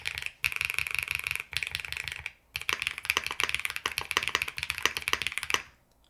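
Rapid, continuous typing on a Womier SK71 Pro mechanical keyboard with a foamy stock sound, close-up, dense clacks broken by a couple of brief pauses.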